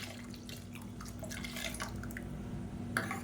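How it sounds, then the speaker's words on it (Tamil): Water from rinsing a mixer jar pours and splashes into a pan of curry nearby, a soft running trickle with a few drips, over a low steady hum. "இப்போ மிக்ஸி அலசிட்டு இந்த தண்ணியை சேர்த்துக்கலாம்."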